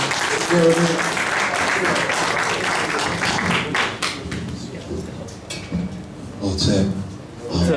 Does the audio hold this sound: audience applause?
yes